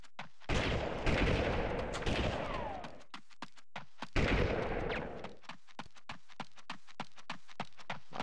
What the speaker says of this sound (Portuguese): O tiro é meio direcionado, ainda bem.